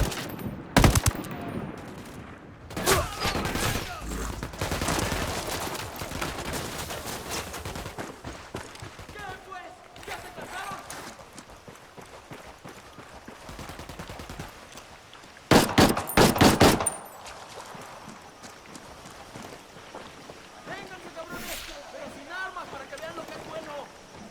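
Gunfire in the Ghost Recon Wildlands video game on PS5 Pro, with bursts of rapid automatic fire and loud clustered shots at varying distances and game voices talking in between.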